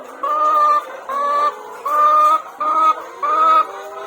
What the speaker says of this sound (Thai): เลี้ยงเป็ดเลี้ยงไก่พ่อได้กินไข่